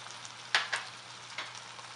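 Minced meat frying with spices in a pan gives a faint, steady sizzle, broken by a few sharp stirring clicks, heard close but quiet.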